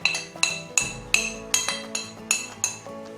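A utensil clinks rhythmically against a large mixing bowl while flour and baking powder are mixed, about eight evenly spaced bright metallic taps, close and clear, with no talk.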